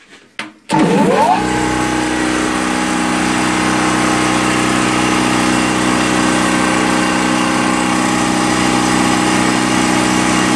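A sandblasting machine switches on after a couple of brief clicks, rising into a loud, steady roaring rumble with a constant hiss of blasting air that holds unchanged to the end, close and with no voices.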